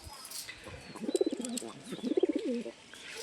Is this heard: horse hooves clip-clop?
no